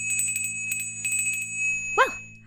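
A bright video game dinner bell rings in a few quick clusters of strikes over a steady electronic hum, followed by a short rising tone.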